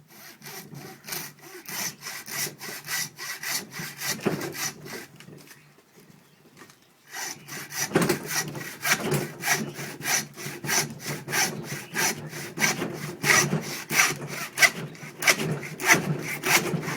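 A hand saw cuts steadily through an animal skull to remove the skull cap just above the eye sockets. Close, rhythmic rasping strokes pause briefly, then resume in a faster, continuous run.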